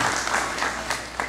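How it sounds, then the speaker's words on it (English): A crowd applauding, a dense wash of clapping that stays steady and fairly loud throughout. "May we give him a round of applause."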